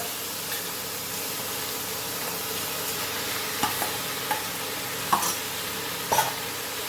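Prawn keema, a spicy Goan prawn mince, fries in a pan with a steady broadband sizzle while a spatula scrapes and stirs, giving a few sharper clicks and knocks toward the end.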